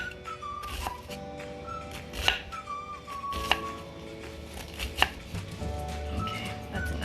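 Onion being chopped with a knife for Asian egg rolls, a few sharp separate knife strikes on a board over a busy background with faint tonal whistling.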